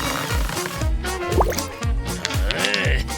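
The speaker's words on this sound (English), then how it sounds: "Just add water." Water is poured and dripped into a DIY craft made from stockings and an old plastic bottle, with repeated wet drips and gurgling plops in a loose rhythm, close and clear.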